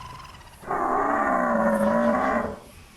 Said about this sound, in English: Almost like a little dog bark there from the ambience.